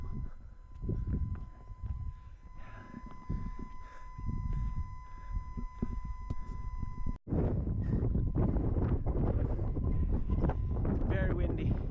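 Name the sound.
strong wind on a hilltop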